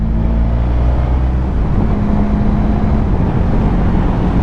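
A Honda Pan European ST1100 motorcycle engine hums steadily while riding, a loud, close, even drone with a low throb and faint wind rush, holding a constant pitch throughout.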